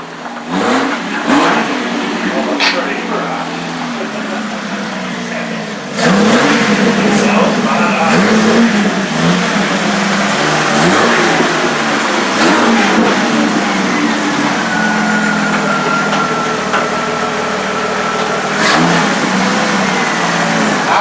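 A truck engine revs repeatedly out mudding, loud and close, with surges of throttle and rough rumbling over a sustained drone, while people talk and shout over the engine throughout.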